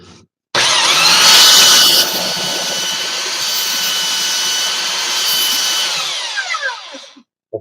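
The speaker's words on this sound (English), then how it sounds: "I have a belt sander somewhere for wood." A woodworking belt sander starts up loud and close, whirring steadily for several seconds with a broadband roar, then winds down with a few falling tones and stops.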